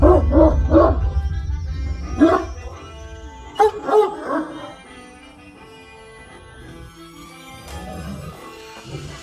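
A Great Dane barks in a few deep, close bursts: a quick cluster at first, then single barks spaced apart, fading into quieter whimpering and soft sounds.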